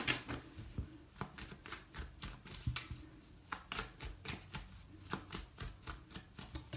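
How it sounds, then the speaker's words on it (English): Tarot cards being shuffled by hand in a steady series of crisp riffles and slaps, close and clear, with no talking over them. "Three shuffles for Aries and their person."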